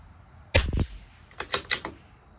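Rifle shots from a CZ 457 LRP rimfire with an IBI barrel firing Lapua Long Range ammunition at 50 yards: one sharp report, then a quick cluster of three more shots about a second later, each with a short decay.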